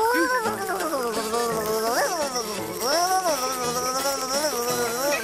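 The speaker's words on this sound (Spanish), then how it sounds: "¿Qué le pasa a esa abeja?" A cartoon bee buzzes continuously in a wavering, whiny drone that rises and falls in pitch, loud and close throughout.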